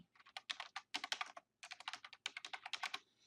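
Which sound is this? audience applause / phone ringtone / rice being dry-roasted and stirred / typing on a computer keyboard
typing on a computer keyboard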